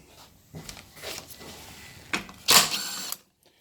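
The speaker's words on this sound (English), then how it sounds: "So much easier with power tools." Short whirring bursts of a power tool removing bolts from a Briggs & Stratton engine start and stop several times, the loudest near the end, with brief mechanical clicks between them.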